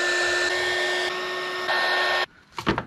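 A heat gun blows hot air to shrink heat-shrink tubing on a cable, a loud steady whooshing hum that cuts off sharply, followed by a few soft handling clunks.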